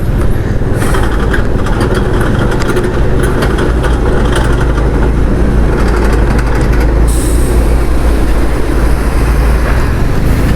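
Loud, continuous heavy vehicle rumble and wind roar on a ghat road on the Bangalore to Mangalore route, heard from a moving bike, with a bus passing nearby and shifting rattles throughout.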